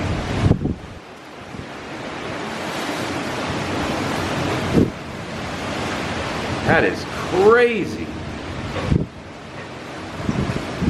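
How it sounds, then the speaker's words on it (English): Loud roaring hurricane wind buffets the microphone in strong gusts, with bursts of surging noise and a person briefly speaking amid the rush. "Oh, there's a big gust."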